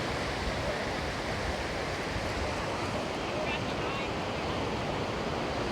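Ocean surf at Ogunquit Beach, Maine: a steady, dense wash of breaking waves with constant broadband roar and some wind, no distinct individual crashes, heard from the shore.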